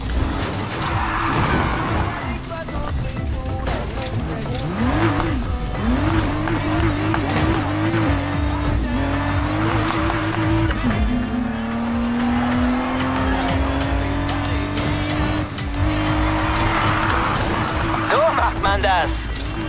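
A car drifting in the street racing game Need for Speed Heat, engine roaring loud and steady while tires squeal in long wavering and sliding tones, with a voice speaking briefly over the driving noise.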